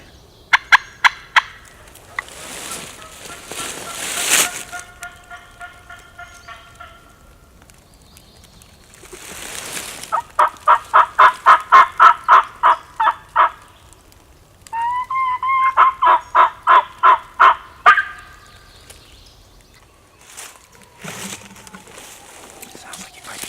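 A wild longbeard turkey gobbles repeatedly outdoors, with long, rapid runs of rhythmic yelping calls and some quiet low voices in the gaps.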